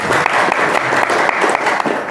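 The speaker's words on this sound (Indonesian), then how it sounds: "tepuk tangan." A crowd at a gathering of Nahdlatul Ulama cadres in South Sumatra claps in a short, dense burst, several sharper claps standing out near the front.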